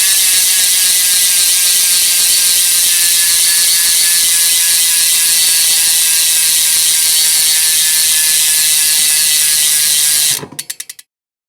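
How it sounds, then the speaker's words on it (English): A Hunt bicycle hub freewheel on an S-Works Crux clicks rapidly and continuously while coasting at speed, a loud, bright ratchet buzz that slows into separate clicks and stops near the end. "And I think these Hunt hubs sound really, really good, especially when you're going pretty fast."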